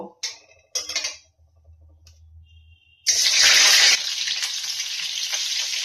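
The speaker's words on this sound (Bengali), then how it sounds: "এখন আমি আগে ডিমগুলোকে ভেজে নেব।" Eggs frying in a pan for an egg and soybean curry: after a few short clatters and a quiet stretch, a loud, steady sizzle bursts up and keeps hissing close by, with no talk.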